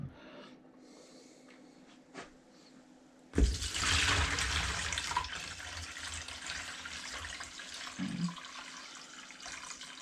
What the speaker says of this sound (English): Pour that water back off into this old big bowl here.